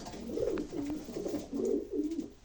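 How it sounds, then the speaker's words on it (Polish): Pigeons coo inside a loft at night, several birds overlapping in soft, rolling, low burbling calls that rise and fall continuously, close and moderately loud with no talking. "Jesteśmy w Gołębniku."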